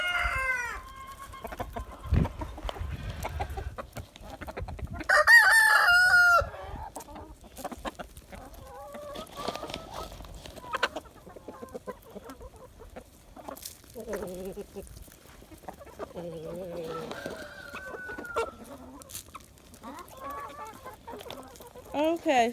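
A Barred Rock rooster among penned chickens crows several times, loud and close, between bursts of clucking and soft hen chatter as the birds peck at soldier fly larvae treats.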